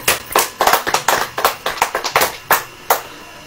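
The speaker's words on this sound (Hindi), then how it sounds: "ताली बजाइए।" An audience claps hands in a ragged, uneven pattern of sharp slaps, close and fairly loud, thinning to a few scattered claps toward the end.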